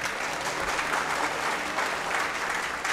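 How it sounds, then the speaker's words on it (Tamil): An audience gives dense, steady applause in a hall during a Tamil talk event, a continuous wash of clapping from many hands with no break. "எல்லோரும் ஒரு தடவை கைதட்டுங்க."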